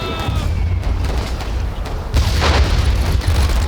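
Anti-tank rounds firing and exploding in a World War I video game, loud heavy booms with a continuous low rumble and a stronger blast partway through.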